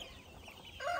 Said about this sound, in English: He's a mix between Leghorn and the Speckled Sussex.